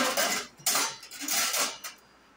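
A metal spoon and dishes clatter in a kitchen, several bright rattling bursts in quick succession, close and fairly loud, ending in a light clink.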